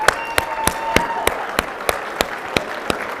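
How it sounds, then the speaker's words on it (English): An audience at a commercial real estate technology conference gives a round of applause. Only sharp, evenly spaced single claps are heard, about three per second, fairly close and distinct, rather than a dense crowd. "let's give these folks another round of applause."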